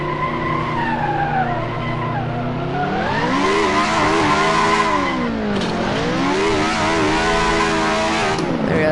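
Tires squeal loudly during a burnout in the racing game Assetto Corsa as the engine revs up and down in wavering, sustained tones. The screech is continuous and close, with no talk over it.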